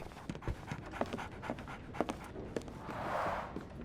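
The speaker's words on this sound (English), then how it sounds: "So, Barnes has a dog now." A dog in the Sherlock Holmes: The Awakened video game pants steadily in quick, rhythmic breaths, close and fairly quiet, with no voices over it.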